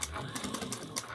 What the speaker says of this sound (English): Take this and just fold it in half on each other, making both sides of the binding even, and just take it over to your machine and sew